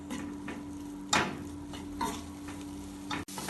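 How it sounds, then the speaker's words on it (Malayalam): Ground spices and powders are stirred and sautéed in a pan, giving a steady soft sizzle with a few spoon scrapes and taps against the pan, close and without talk. "ഇതെല്ലാം ചേർത്ത് കുറച്ച് സമയം ഇളക്കി വഴറ്റാം."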